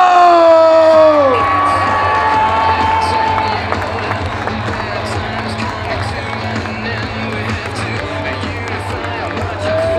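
A crowd at the Marche pour la vie 2021 rally at the Trocadéro in Paris cheers and whoops in a loud, sustained roar, with a voice calling out at the start before the noise settles.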